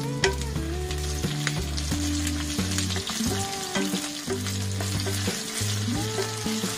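Brinjal pieces fry in hot oil for a Tamil-style potato masala gravy, giving a steady, close sizzle throughout. A tonal melody plays loudly over the frying.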